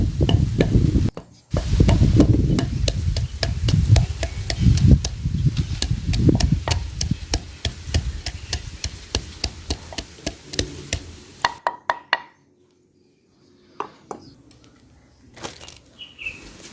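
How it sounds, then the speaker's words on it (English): Ginger and turmeric pounded in a mortar for golden milk, in a long run of rapid, regular thuds close up, then silence and a few scattered knocks at the end. "And then I'll go ahead and pound the turmeric too."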